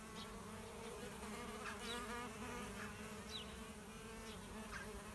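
Bees flying around cocoon buckets hung beside hives in an orchard, a steady close buzzing swarm with individual insects whizzing past the microphone, continuous and loud with no talking.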